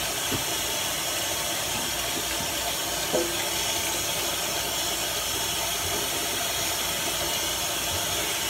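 Water runs steadily from a tap while dyed red hair is rinsed, a close, even hiss with no break and no talking.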